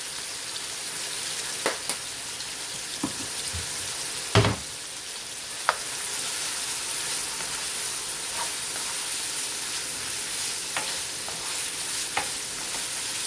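Meat for a Philly cheesesteak frying in a pan, a constant close sizzle broken by occasional sharp clicks and scrapes of stirring, with no voices.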